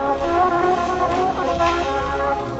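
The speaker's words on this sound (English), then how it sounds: "notes played on a mellotron," Rapid, high, sped-up mellotron tones in a continuous tinny stream, with fluttering pitch and a thin, lo-fi quality, from a recording.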